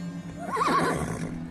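A horse in Fable: The Journey gives a single close, clear whinny that rises and wavers for about a second, with no talk over it.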